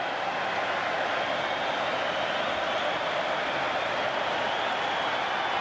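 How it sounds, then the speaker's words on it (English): Limerick supporters at the 2021 All-Ireland hurling final against Cork cheer and applaud in a vast stadium crowd, a dense, even roar that stays steady throughout. "The Limerick fans beginning to cheer."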